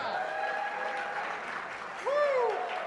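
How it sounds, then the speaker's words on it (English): A live audience applauds a show host on stage, steady clapping joined near the end by loud whooping voices and cheers rising over it. "how about a big round of applause for Mr."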